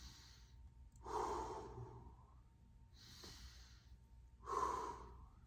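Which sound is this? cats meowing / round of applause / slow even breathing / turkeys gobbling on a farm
slow even breathing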